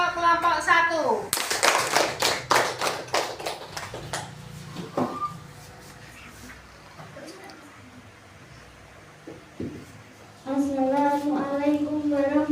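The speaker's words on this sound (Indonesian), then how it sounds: "Tepuk tangan untuk kelompok 1." Schoolchildren in a classroom clap briskly together for the first group for a few seconds, bracketed by spoken voices before and after, with a quiet pause in between.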